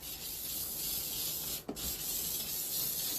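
Spray adhesive hisses steadily onto a board for a faux brick backsplash, one continuous close spray that cuts off for a split second near the middle before carrying on, with no talking.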